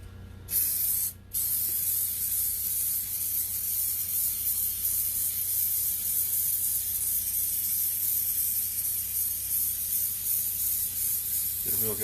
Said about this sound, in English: So we're gonna spray it with some adhesive.